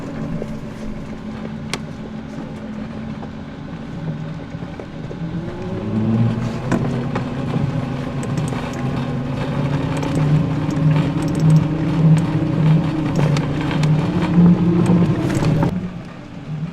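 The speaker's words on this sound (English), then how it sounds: "Just a little bit of a night drive here." A vehicle with a drivable tent camper drives at night, its engine droning steadily and rising in pitch as it speeds up, with road noise throughout and no talking.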